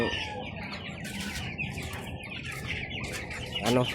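Young pet chicks, grown enough to need a new coop, clucking and cheeping nearby in a steady stream of short calls over a busy background of rustling and chirps.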